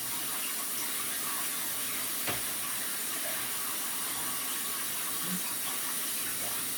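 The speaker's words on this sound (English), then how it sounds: "now that I'm running this hot water over them" Hot tap water runs steadily over noodles, giving a continuous, fairly quiet broadband rush with no speech over it.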